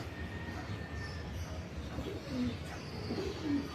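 Caged breeder pigeons in a loft, soft low cooing calls repeating near and faint over a quiet background, with a few brief chirps.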